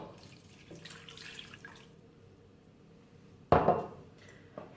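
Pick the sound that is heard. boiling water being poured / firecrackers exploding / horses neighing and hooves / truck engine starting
boiling water being poured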